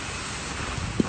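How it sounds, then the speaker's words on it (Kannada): Strong wind blows outdoors beside a hilltop temple, a steady broadband roar of gusts buffeting the microphone with a brief thump near the end. "ಛತ್ರಿನೂ ಇಟ್ಕೊಳಕ್ಕಾಗ್ತಿಲ್ಲ,"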